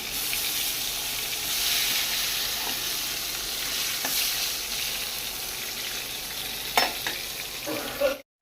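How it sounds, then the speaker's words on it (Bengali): Eggplant slices frying in a pan, a strong steady sizzle throughout with a few utensil knocks and stirring sounds toward the end before it cuts off. "তো এখন একটু বেগুন ভাজা করে নিচ্ছি"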